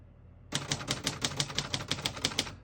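Typing on a 1953 Royal Quiet De Luxe portable typewriter: a steady run of about a dozen crisp, evenly spaced key strikes starting after a brief quiet moment, close and clear with no talking.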